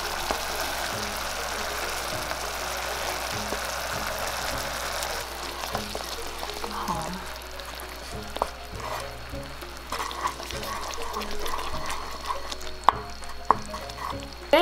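Palm sugar dissolves in a sauce in a pan, giving a continuous soft sizzle with scattered light stirring clicks and scrapes, close by and fairly quiet, with no talk.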